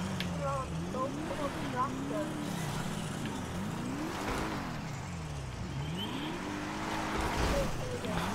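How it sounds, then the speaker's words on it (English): A tractor engine in GTA 5 drones and revs in rising and falling pitch sweeps, loud and continuous, with shouting voices mixed over it throughout. "Stop the tractor, sir. Get out of it."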